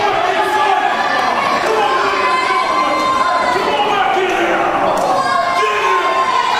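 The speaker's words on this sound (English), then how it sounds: "listen to this crowd" A wrestling crowd around the ring cheers and shouts loudly and continuously, a dense roar of many voices with children's shrieks mixed in.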